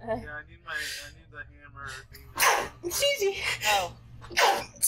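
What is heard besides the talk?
sneeze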